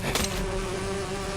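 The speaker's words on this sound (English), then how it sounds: "Yeah, that's an excessively large bee." Loud, steady insect buzzing from an oversized giant bee creature in the video game Fallout 76, droning close by without pause, with a sustained tonal hum.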